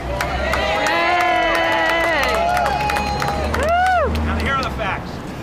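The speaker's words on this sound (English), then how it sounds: "Now, please, let's applaud." Crowd at a public library rally in New York City applauds and cheers, a loud dense roar of clapping and shouting with whoops and voices rising and falling over it.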